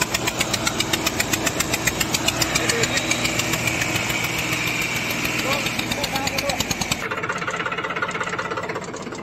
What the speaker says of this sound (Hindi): ये देखिए जोर मार रहा है ट्रैक्टर